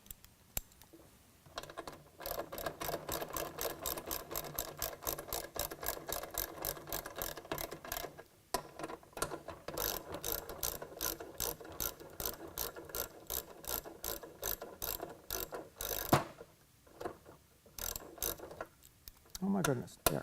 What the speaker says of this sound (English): So I'll put a 1/2 inch socket here.